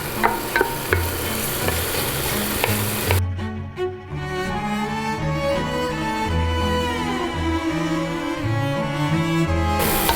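Garlic stir-fried in a pan as the first step of pechay with fried tofu and pork, giving a steady loud sizzle with repeated scraping and stirring clatter of a utensil against the pan, no talking.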